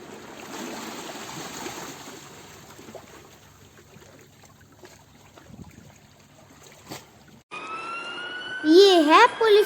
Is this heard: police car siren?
yes